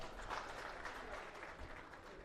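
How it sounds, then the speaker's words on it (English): A large audience breaks into steady, continuous applause to welcome a Supreme Court judge at a law and constitution dialogue event. The clapping is faint and even, with no talk heard over it. "Let us welcome Justice Surakant with a huge round of applause."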